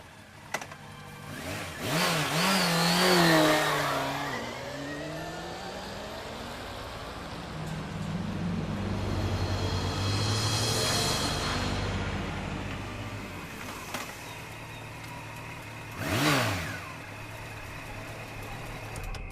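Motorcycle engine in the adventure game Secret Files Tunguska, starting up with a rising rev, then settling into a steady low idle drone before another brief revving surge toward the end.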